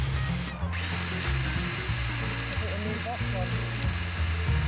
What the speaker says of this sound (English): We now need to drill holes through the roof to make a thread